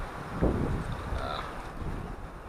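Steady wind gusts at an overnight campsite near Mina Sauk Falls, a continuous breezy rush buffeting the microphone, close and fairly loud with no talking.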